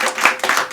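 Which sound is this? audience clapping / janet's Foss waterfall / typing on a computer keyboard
audience clapping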